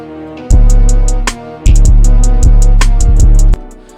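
Reversed, doubled string layers panned left and right swell in loud sustained chords, each cutting off sharply, with rhythmic percussive hits repeating on top.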